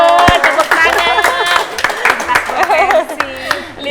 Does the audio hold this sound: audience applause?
yes